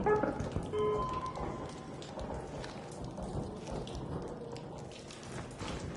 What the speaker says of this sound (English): that's just the rain hitting the building